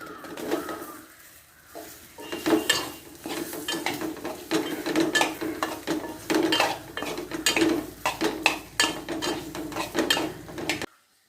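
Gooseberries, curry leaves and dried chillies going into a pan of oil and mustard seeds for gooseberry pickle. Busy stirring, scraping and clattering against the pan run over a low sizzle, with birds chirping faintly in the background.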